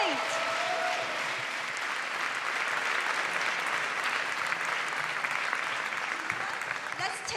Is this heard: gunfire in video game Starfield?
no